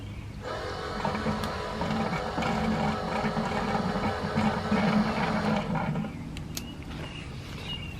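An electric fuel lift pump on a 2nd-gen Dodge Ram Cummins runs steadily to pump out the sump, a buzzing whine that holds for about six seconds, then cuts off, leaving faint clicks.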